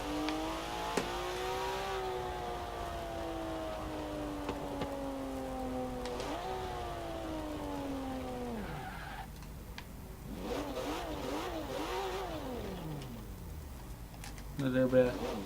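A Porsche 911 (992) in Forza Horizon 4 rumbles and burbles as the engine comes off throttle, with rising and falling engine tones and pops, moderately loud and steady throughout.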